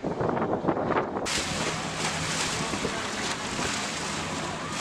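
Motorboats run at the Tigre fruit port, giving off a steady broadband engine and water rush. Gusts of wind buffet the microphone throughout.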